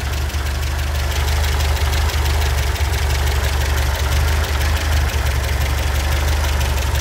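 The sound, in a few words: 1978 MGB GT engine idling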